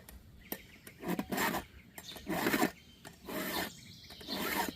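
A metal file, freshly cleaned with a file card, is drawn across metal in sharpening strokes. About five close, rhythmic rasping strokes come with short pauses between them, and no one speaks.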